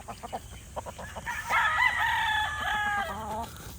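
A gamefowl stag at a gamefarm, a Black Gilmore line bird, gives one full crow at close range after a few short clucks, the call rising and then trailing off.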